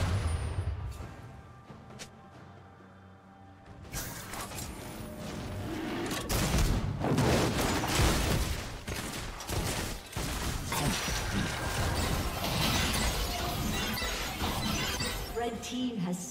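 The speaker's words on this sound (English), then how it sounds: "Turret has been destroyed." A turret is destroyed in League of Legends, starting with sparse clicks, then a sudden burst of crashing, shattering game effects that stays loud and dense; an announcer voice speaks over it.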